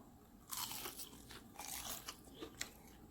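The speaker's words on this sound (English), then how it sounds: "Let's see if this has any kind of crunch to it." Deep fried crab bitten at close range, a loud crunch followed by several quieter crunching and chewing sounds in a quiet setting.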